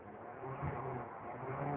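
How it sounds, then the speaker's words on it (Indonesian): A car engine running on LPG idles steadily nearby, a low even hum with a faint rise in the middle, no talking. "Suara mobil kayak begitu Pak"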